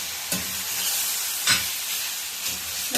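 Chicken sukka with turmeric and salt sizzling steadily in a pan, a bright constant frying hiss broken by a few soft stirring scrapes, close up and with no talking.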